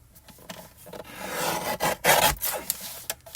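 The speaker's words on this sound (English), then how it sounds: "I'm going to trim this card a little bit." A paper craft card being trimmed, heard as a close, continuous scraping and rubbing cut that swells louder in the middle, with a few small taps around it and no talking.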